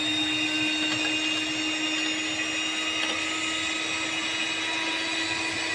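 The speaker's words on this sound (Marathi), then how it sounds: "आता माझ्याकडे हे इलेक्ट्रिक विस्कर आहे आणि करून घेते." An electric whisk whirs continuously at moderate volume, beating vanilla cake batter in a bowl with an even, steady motor hum throughout.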